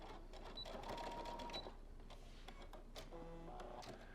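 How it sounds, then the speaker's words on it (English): A sewing machine runs a back stitch on a fabric face mask, a quiet rapid mechanical chatter in short bursts with brief pauses between them, close and alone without speech. "I'm going to do a back stitch."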